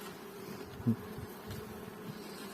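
Honeybees hum low and steady around an open hive during a spring colony inspection, a soft continuous drone with one brief louder bump partway through and no voices.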